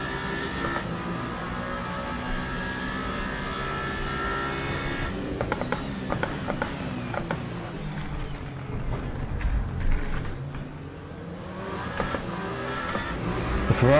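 Race car engines roar continuously in the Le Mans Ultimate sim racing game, with a Ferrari close behind at Sebring. Engines rise and shift through gears, and there are brief rattles and bumps, with no talking.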